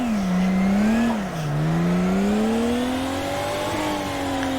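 A car engine revs hard and sustained while drifting on a wet, greasy skid pad, the pitch sliding down and climbing again as the revs change, loud and close with no talk.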